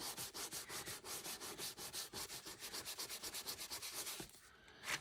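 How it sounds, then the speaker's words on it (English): Rapid, even strokes of buffing across a faux leather surface, a dry rubbing swish repeating about five times a second, close and fairly quiet, breaking off just before the end. "some color is being lifted as I'm buffing"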